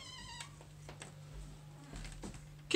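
Kittens meow on a front porch by the door: one clear, high, harmonic meow at the start, then quieter scattered cries and rustles over a steady low hum.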